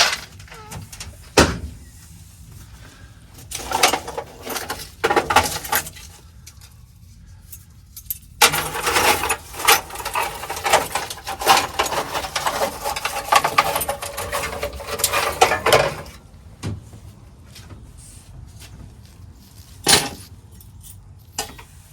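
Loose screws rattle and clatter as they are sifted through junk inside an old G30 van, coming in repeated bursts of metallic jangling with quieter pauses between, close up and with no talking.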